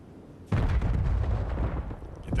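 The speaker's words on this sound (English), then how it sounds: "Explosions ringing out" A grenade goes off in a Call of Duty match, a sudden loud close blast that opens into a long, dense rumbling roar lasting a couple of seconds.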